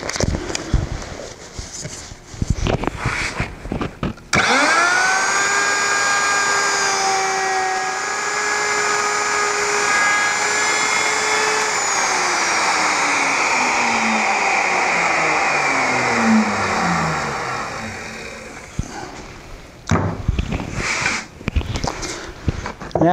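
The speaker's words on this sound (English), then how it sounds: "we'll just do that with a, I believe it's a 3/8 inch radius round over bit with a pilot" Router fitted with a 3/8 inch radius round-over bit and pilot bearing shaping a wooden stool leg, a steady high whine lasting about fifteen seconds as it cuts, then spinning down with falling pitch, with handling noises before and after.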